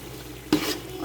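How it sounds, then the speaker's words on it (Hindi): Potatoes for an aloo matar pulao simmering in a pot with about half a glass of water, heard as a steady close sizzle that swells briefly with a stir halfway through. "हमने इसमें तकरीबन आधा गिलास पानी ऐड कर दिया और ये पक रहा है"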